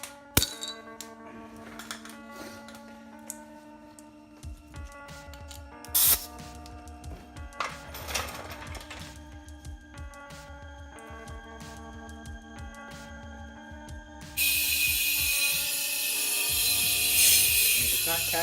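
An air compressor runs during tire bead seating, a steady mechanical drone with rattles and clinks, then a loud rushing hiss of air toward the end; no clear talk.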